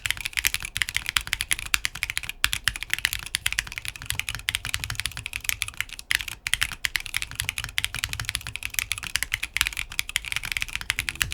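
Rapid clacky typing on a Duo Foundry Duo-M mechanical keyboard, close and continuous, with dense keystrokes, a slightly hollow top row, and occasional louder thocks as keys bottom out.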